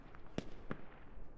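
Sharp gunfire cracks in the military shooter game Squad, three distinct shots spaced irregularly over a low battlefield rumble, the last one right at the end.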